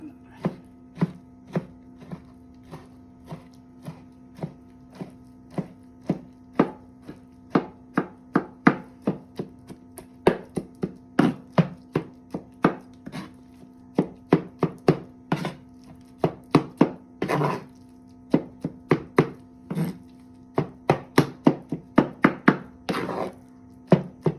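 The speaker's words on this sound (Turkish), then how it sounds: "Ben hepsi doğrayıp hazırlayacağım şimdi." Rapid knife chopping of vegetables for baba ghanoush on a cutting board, dozens of crisp close-up thunks in uneven bursts, with a faint steady hum underneath.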